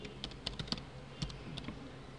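Quiet keystrokes on a computer keyboard in an office setting, a handful of separate clicks tapped at an uneven pace, with no talking.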